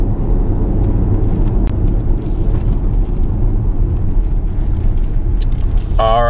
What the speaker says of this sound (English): setting out here in the 2022 Acura MDX A-Spec package